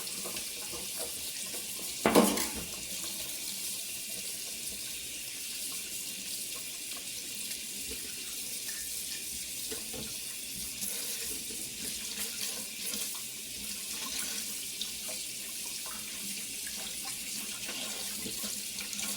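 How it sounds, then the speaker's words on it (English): A tap runs steadily into a sink as partially frozen meat is rinsed under it, a close, even stream of water with one brief louder splash near the start and no talking. "I'm going to rinse it off."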